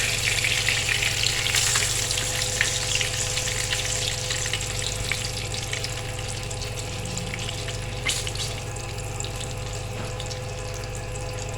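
Potato and chicken kababs coated in cornflour fry in hot oil, giving a continuous close sizzle with faint crackles and occasional soft clinks, and no voices.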